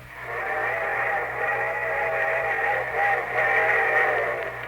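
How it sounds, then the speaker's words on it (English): A steady, droning train whistle chord sounds continuously over a low rumble, slightly muffled as if broadcast, a sound effect on an old radio show. "And here comes the summer show train."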